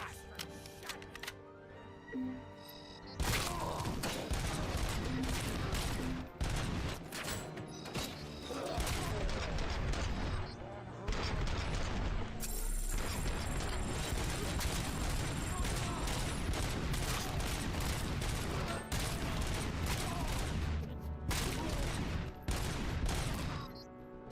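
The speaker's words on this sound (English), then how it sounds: "Gonna say that guy can take a lot of bullets to the face." Gunfire in Robocop: Rogue City, dense rapid bursts of loud shots with mechanical clatter, mostly continuous after a quieter start, with occasional brief gaps.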